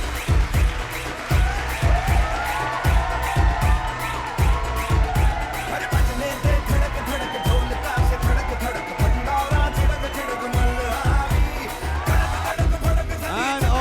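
Audience applause and cheering at a Tribes awards ceremony honouring the Person of the Year, loud and steady for the whole stretch, with whoops rising over dense clapping and music-like tones underneath.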